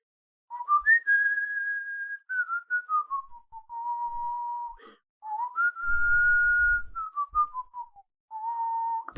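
Someone whistles a simple tune of sustained, gliding notes to mimic a plucked instrument, in two phrases separated by brief gaps, clear and close with a little low rumble.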